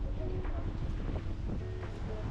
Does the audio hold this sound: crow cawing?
no